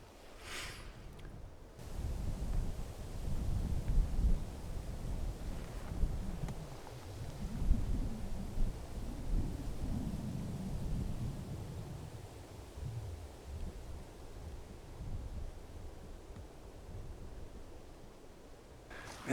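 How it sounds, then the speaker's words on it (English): Strong cold wind gusts outside a tiny cabin in early snow, a low rushing rumble that swells and fades in waves, fairly faint and steady with no voices. "Man, that wind has got some bite"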